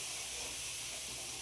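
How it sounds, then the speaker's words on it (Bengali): Grated coconut frying in coconut oil for Poush Sankranti pitha, a steady close hiss and sizzle with no break, heard alone. "নারকেলের তেলে কীভাবে নারকেলটা ভাজা হচ্ছে।"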